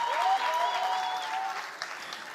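A comedy-show crowd claps for the mothers in the room, a soft, even wash of applause. A long tonal whoop or cheer rides over it early on, then the clapping thins and fades toward the end.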